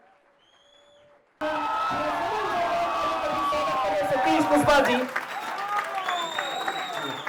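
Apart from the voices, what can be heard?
audience applause and cheering welcoming guest on stage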